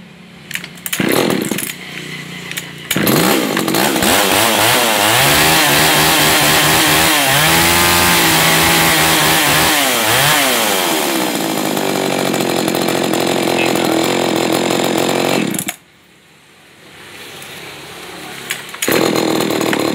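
Gasoline chainsaws including a Shindaiwa 300, Ryobi ES-32L, Komatsu G3500 and Hitachi CS 40E are tested, one roaring loudly close by and revving up and down through long sweeps before dropping to idle, then starting to rev again.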